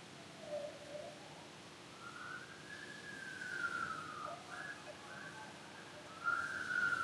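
A faint siren wails far in the distance, its pitch slowly rising and falling over a quiet background hiss, with no talking.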